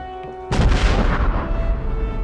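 A cannon loaded with squashed spheroid balls lets off one deep, loud boom after a quiet moment, followed by a long rumbling tail that fades slowly.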